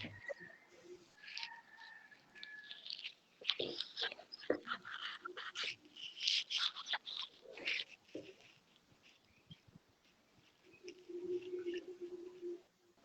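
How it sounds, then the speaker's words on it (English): Birds singing and calling in a garden in Italy, faint chirps and short trills scattered over a quiet background, with a softer low cooing near the end. "I unmuted myself so you can hear the birds in the background."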